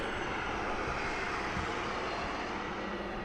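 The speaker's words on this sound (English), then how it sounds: "this is a smaller private aircraft type." Small private aircraft engine droning steadily at Las Vegas Harry Reid International Airport, a continuous broadband roar held at even loudness throughout with no voices.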